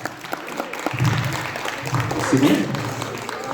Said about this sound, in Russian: Под ваши бурные аплодисменты встреча идет